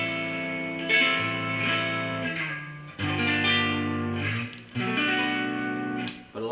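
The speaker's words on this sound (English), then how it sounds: "to do it with an actual power chord, it'll sound like this." Power chords strummed on a guitar during a basic chords lesson, several bright sustained hits in a steady rhythm with short gaps between them, close and fairly loud with no talking.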